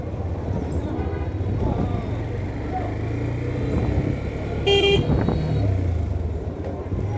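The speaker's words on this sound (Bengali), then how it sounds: "টমটম, অটোরিকশা খুব বেশি।" Busy main road in Habiganj town crowded with tomtoms and auto-rickshaws, with a steady engine drone, a sharp horn toot midway and a voice talking over the traffic.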